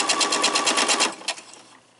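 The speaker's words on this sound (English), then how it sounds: "We're going to sew all of the four patches onto our rectangles" A sewing machine stitching quilt four-patches onto rectangles, a fast even run of needle strokes for about a second, then a few slower stitches before stopping, close and clear.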